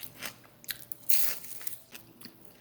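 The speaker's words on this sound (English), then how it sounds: "Feel this one maybe more crunchy here." Crunchy plantain chips are bitten and chewed up close, giving several quiet, uneven crisp crunches in quick succession with no talk.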